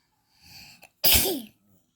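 A woman sneezes once, a short inhaled build-up followed by a loud explosive burst that trails off, close to the microphone in a quiet room.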